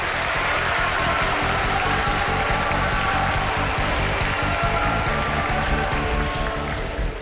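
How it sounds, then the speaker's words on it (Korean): A lecture audience applauds at the close of an outdoor street humanities talk, a dense, sustained clatter of many hands clapping loudly and evenly throughout. "여러분 박수 쳐주세요."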